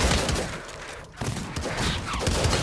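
Shotgun fire in Pavlov zombies VR game play, dense rapid booming blasts piled over each other with a brief lull in the middle, loud and continuous.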